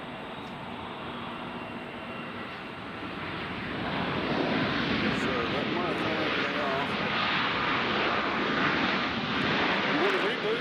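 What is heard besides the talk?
airplanes at Nashville airport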